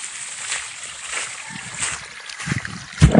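Strong irrigation water rushes and splashes across a calamansi farm, a continuous close wash of sloshing with heavier splashes building toward the end.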